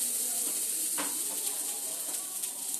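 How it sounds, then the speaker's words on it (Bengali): Tomato-onion masala sizzles steadily in a pan with a soft scrape or two of stirring, close and constant, no talking over it. "একবার নাড়াচাড়া দিয়ে মশলাটাকে আমি নামিয়ে নেব"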